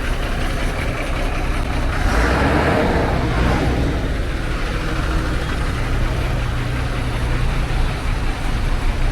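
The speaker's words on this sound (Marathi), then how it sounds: "एवढं ट्रॅफिक आहे." Road traffic jam on the highway between Shahapur and Asangaon: a dense, loud, continuous roar of idling and creeping vehicles close by, with engine rumble throughout.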